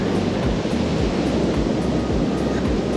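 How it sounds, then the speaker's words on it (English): Ocean waves break on a beach at West Palm Beach, Florida, a continuous low surf rumble with rolling swells and some wind, no voices. "there's actually waves out right now"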